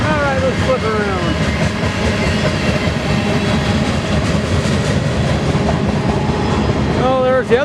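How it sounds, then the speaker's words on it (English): A BNSF freight train rolls steadily along the rail line near Spokane, with a loud, continuous rumble and clatter of wheels on track, and faint wheel squeals near the start and the end. "Oh, there's the other train on the other track."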